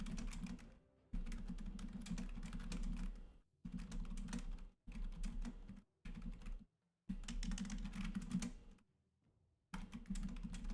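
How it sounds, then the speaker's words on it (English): Fast bursts of typing on a computer keyboard during a War Dragons mobile game stream, clattering in several separate runs split by brief pauses, close and fairly loud with no talk. "I am currently typing that out"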